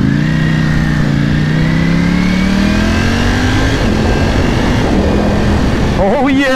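A 2020 Ducati Panigale V4S in sport mode revs hard up close, its engine note climbing steadily in pitch before giving way to a loud, rough roar.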